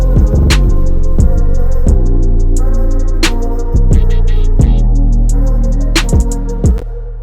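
A full R&B-style beat plays steadily, with deep bass, punchy drum hits and layered melodic parts looping at a relaxed groove, no voices.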